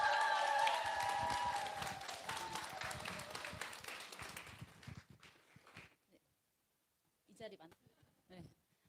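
Audience applause welcoming a speaker to a business seminar lecture, a loud, full round of clapping that gradually thins out and dies away, followed by a voice speaking.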